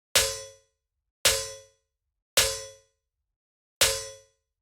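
Four sharp, metallic electronic snare hits ring out alone, evenly spaced, each with a bright clang that decays quickly.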